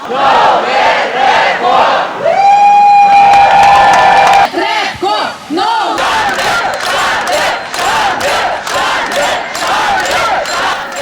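Protest crowd outside an opera house in Wiesbaden loudly chanting at Russian opera singer Anna Netrebko, a rhythmic repeated group shout, close and dense, with a brief whistle-like tone early on.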